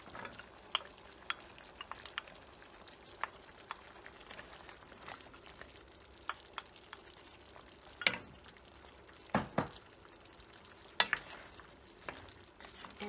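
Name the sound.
potato and carrots sauteing with chicken in pan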